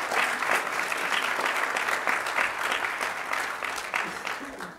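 A church congregation applauds a graduate at a Baptist service, a sustained round of clapping from many hands filling the room at steady volume before tapering slightly at the end.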